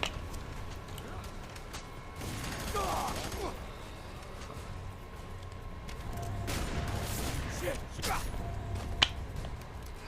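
Gunfire in the video game F.E.A.R. 3, a firefight through suburban backyard houses: scattered shots and bursts sound at moderate level over a steady game background, with a sharp louder crack near the end.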